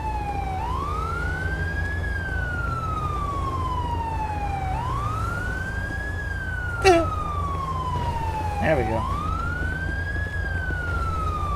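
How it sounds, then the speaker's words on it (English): A police siren in GTA5 wails in long rising and falling sweeps, loud and close over a steady engine drone on a highway, with a sharp click and a short burst of talk partway through. "that's not my siren that's on. That's the county's."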